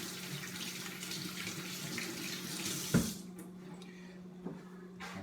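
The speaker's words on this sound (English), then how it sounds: "So you just turn on your tap, you rinse all that salt off." A kitchen tap runs steadily as salt is rinsed off a cured duck breast, a close continuous rush of water that cuts off abruptly about halfway through, followed by a few faint handling sounds.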